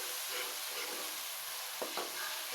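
Tomato masala sautés in a pan for an aloo gobhi dish, giving a steady soft sizzle with a couple of brief stirring scrapes near the end and no voices.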